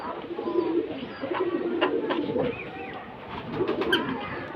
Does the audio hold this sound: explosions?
no